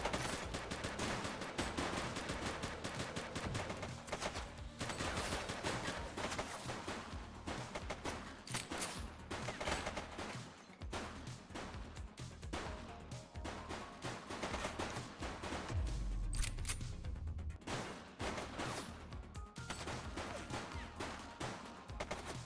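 A long, intense shootout in The Precinct, dense rapid gunfire with machine-gun bursts and scattered single shots crackling almost continuously at high volume.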